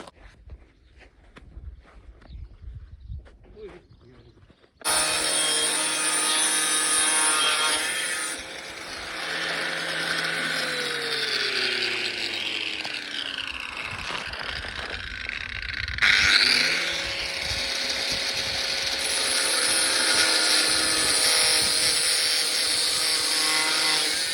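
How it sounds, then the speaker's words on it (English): An angle grinder starts abruptly after a few seconds of quiet handling noises and cuts continuously with a loud, bright whine. Its pitch dips and shifts as the disc bites, with one brief pause in the grinding before it resumes. "All right, time to start angle grinding."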